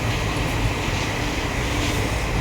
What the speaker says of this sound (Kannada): ಟ್ರೈನ್ ಅಂತೂ ಸಿಕ್ಕಾಪಟ್ಟೆ ಸ್ಪೀಡಾಗಿ ಹೋಯ್ತೈತೆ